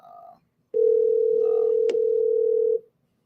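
A steady telephone dial tone sounds loud and continuous for about two seconds as a call is placed, following a brief lower tone and with a faint click partway through.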